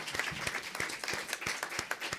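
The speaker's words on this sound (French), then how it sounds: "On peut les applaudir en effet" Small workshop audience in Marseille applauds the speakers, producing fairly quiet, scattered clapping with individual hand claps distinguishable in a loose, uneven rhythm.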